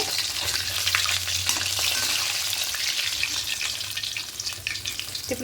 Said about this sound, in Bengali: এইভাবে লাল লাল করে বাকি মাছগুলো ভেজে নেব